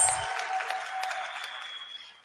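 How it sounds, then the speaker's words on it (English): Conference delegates at an HIV services session applaud, a fairly quiet burst of clapping that thins and fades out over a couple of seconds, with a faint lingering tone underneath. "I think that deserves a massive round of applause"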